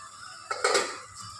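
A lid is set down on a cooking pot with a quick pair of close, clattering metallic knocks and a brief ringing rattle. No one speaks.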